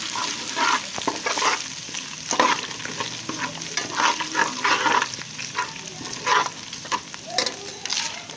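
Whole spices and ginger-garlic paste fry in a pan for a kabab pulao, a close sizzle broken by repeated scraping stirs in an uneven rhythm, with no talking.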